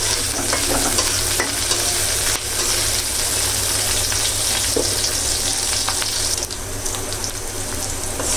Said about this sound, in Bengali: রসুন পেঁয়াজ একটু ভাজা হয়ে গেছে